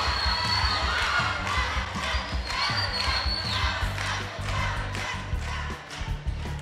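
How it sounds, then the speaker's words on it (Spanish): Audience at a school quiz contest cheering and clapping, a lively mix of shouts, claps and thumping that stays loud and busy throughout. "Fuerte el aplauso."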